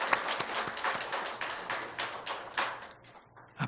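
Church congregation clapping in welcome of a new member during a Sunday worship service, fairly faint, with distinct individual claps pattering irregularly before thinning out and stopping near the end.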